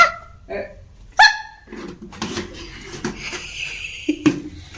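A dog barks a few times nearby in short, sharp bursts outdoors near a gate, with other noises in between.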